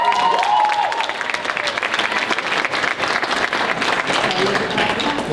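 A ceremony crowd claps and cheers loudly and continuously, a thick wash of applause with shouts and whoops mixed in, staying full throughout.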